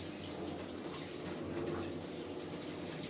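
A rye flour and water mixture is poured through wet hair, making a soft, steady splashing trickle that continues evenly for a few seconds without speech.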